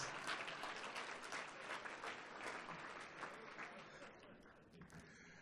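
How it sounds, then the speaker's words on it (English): Audience applause at a university academic achievers' awards ceremony, a dense, even wash of many hands clapping that thins slightly toward the end. "Please give me a big round of applause"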